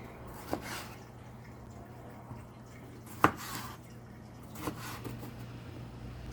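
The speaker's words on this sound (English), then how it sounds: "Actually, I'll cut them in fourths." A knife cuts tomatoes into quarters on a board while making mole, giving a few sparse, soft knocks spread across an otherwise quiet kitchen background.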